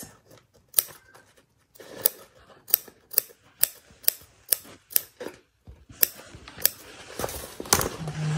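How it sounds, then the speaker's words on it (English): Snips cutting material while a bag is being made, a series of close, crisp individual snaps, about a dozen of them at an uneven pace, followed by rustling handling noise. "So let me just get my snippy snips."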